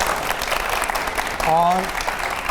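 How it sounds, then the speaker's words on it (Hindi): An audience at a televised event claps steadily the whole time, with a voice talking over it and a short tonal sound partway through. "बहुत जोर से ताली बजाइए आपके लिए।"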